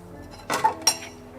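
A spoon clinks twice against a dish, two short bright metallic taps close by with quiet surroundings.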